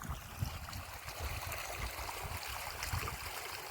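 Irrigation water flows steadily through a groundnut field, a continuous close trickling and gurgling like a small stream, even and unbroken throughout.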